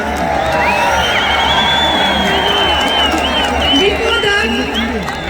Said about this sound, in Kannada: ಚಪ್ಪಾಳೆ ತಟ್ಟಿ